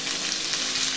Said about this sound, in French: vous devez mettre de l'ail et oignon déjà haché pour faire revenir cuit dans le jus